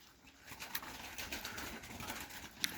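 Black Turkish pigeons coo softly at close range, a low murmuring call repeated through the moment with a few faint rustles in the background.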